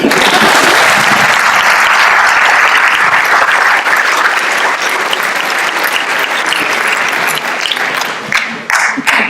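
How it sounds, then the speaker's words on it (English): Audience applause in an orientation session hall, dense sustained clapping that stays loud throughout and thins slightly toward the end. "can you clap for me in the initial stage itself?"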